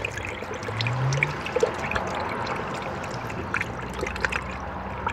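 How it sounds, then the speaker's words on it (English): Coolant pours slowly through a spill-free funnel into the cooling system of a Honda Civic, giving a steady close liquid trickle and gurgle with a brief low glug, and no talking. "So I'll be adding coolant into the system"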